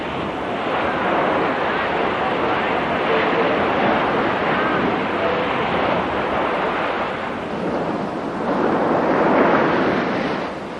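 Ocean waves on the Malabar coast surge in a continuous roar of surf, loud and steady with swells building near the end, mixed with wind rumble.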